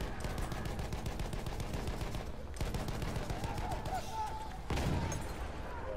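Rapid automatic gunfire from the video game Battlefield 1, dense bursts of shots in quick succession running through most of the stretch, with players talking over the action.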